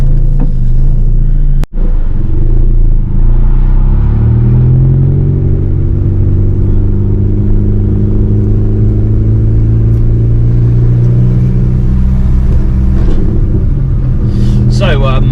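A car engine idles and rumbles steadily up close while reversing at a drift training day, the low drone running unbroken throughout with only a brief dropout near the start.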